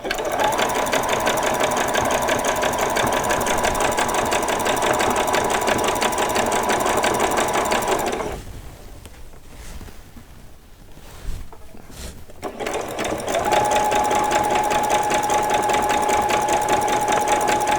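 A sewing machine runs fast and steady, zigzag stitching doll socks, pausing briefly midway before resuming its rapid, close mechanical chatter, with no talking.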